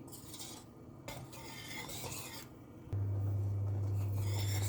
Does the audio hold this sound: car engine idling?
no